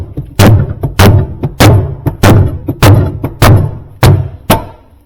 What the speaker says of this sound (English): you have to get underneath and bang it from the bottom